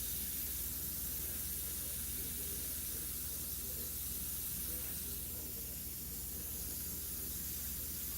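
Aerosol spray paint hissing steadily and continuously while a great white shark model is given finishing touches, a close, unbroken airy spray with no talk over it.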